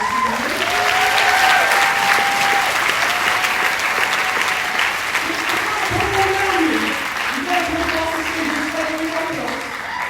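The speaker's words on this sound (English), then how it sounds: "Let's give the same level of thunderous round of applause for Marlo" Thunderous, sustained applause from the audience at a college convocation, with a few voices calling out over the clapping.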